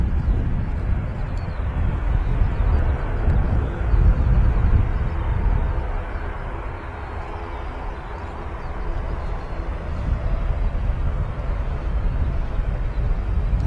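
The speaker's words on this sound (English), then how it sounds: "Okay, Loganair ATR 72. No, not a Loganair. Aer Lingus ATR 72." An Aer Lingus ATR 72 turboprop at Manchester Airport gives a steady, loud low roar that swells and eases slightly over several seconds, heard outdoors against wind with no speech.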